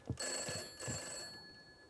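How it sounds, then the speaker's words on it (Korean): An in-game telephone rings in the horror game From Day To Day, its bell tone holding steadily, moderately quiet, with a few soft thumps at the start and no talk over it. "전화 왔어 전화 왔어"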